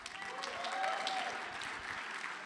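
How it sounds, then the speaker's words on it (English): Sustained audience applause at a fundraising gala, a dense wash of clapping hands that holds steady and fairly loud throughout, with no voices rising above it. "Give yourselves a big round of applause."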